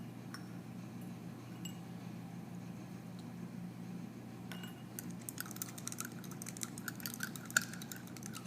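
A glass stirring rod clinks and taps against a glass holding a solution that refuses to dissolve, faint and quiet at first, then quick irregular ticks come thicker in the second half.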